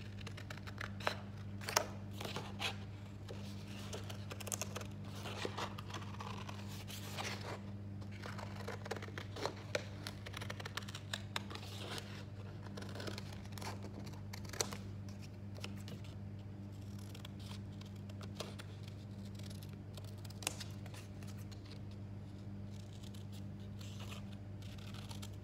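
Paper being cut out with scissors to make a shape for gift wrapping, soft intermittent snips and rustles, close but faint, scattered irregularly over a quiet background.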